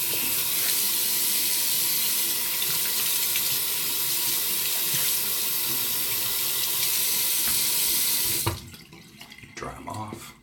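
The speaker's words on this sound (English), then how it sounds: "I'm gonna rinse my hands." Hands are rinsed under a running tap in a steady, close, hissing stream that stops abruptly near the end, leaving faint drips and handling sounds.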